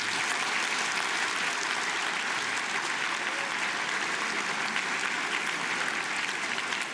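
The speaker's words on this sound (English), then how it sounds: "And I think we should give all of our volunteers a round of applause." Dense, steady applause from a large dinner audience at the Tucson Festival of Books author dinner, honouring volunteers, continuing without a break for about seven seconds with no voices on top.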